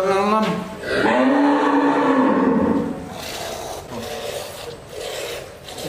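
A top-class dairy cow on a farm near Sialkot gives one long, loud, drawn-out moo close by, followed by quieter rasping and rubbing sounds.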